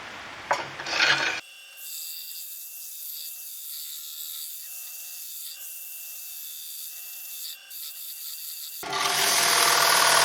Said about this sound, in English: So now we need to do quite a bit of sanding.